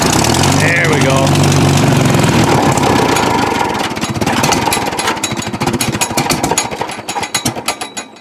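An old overgrown Farmall tractor engine runs after starting, a loud rough chugging with rapid uneven firing pulses that gradually falter and thin out toward the end, with a voice talking over it.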